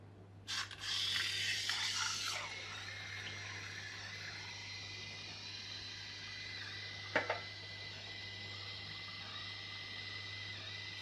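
A steady low dishwasher hum runs throughout at night indoors, with a brief hiss of running water early on and a sharp click later.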